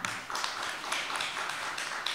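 Audience applause at the close of a startup pitch at an investor demo day, a steady wash of many hands clapping at moderate volume throughout, with no talking.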